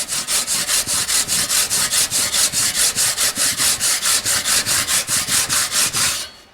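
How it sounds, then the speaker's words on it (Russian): A hand saw cuts into wood along a marked line, with about twenty steady rhythmic rasping back-and-forth strokes, close and clear, stopping at the end. "Здесь ножовкой надпиливаю сначала."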